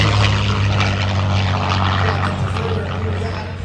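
A P-51 Mustang warbird, late-model P-51D with bubble canopy, roars through a demo pass at an airshow, its piston engine drone loud and steady, then easing slightly as it moves away.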